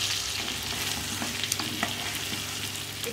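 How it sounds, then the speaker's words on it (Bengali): Spice paste stir-fried in a hot pan for a Bengali dish, giving a steady close sizzle with a few scraping stirs, no voices. "এরপরে কষাতে হবে এটাকে ভালো করে"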